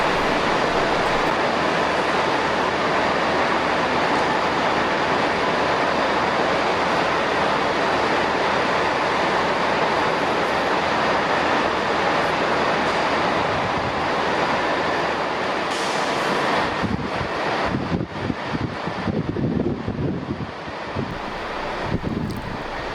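A northbound train pulls out of a station during a storm, its rolling rumble mixed with heavy wind buffeting the microphone, then giving way to gusty, uneven noise near the end.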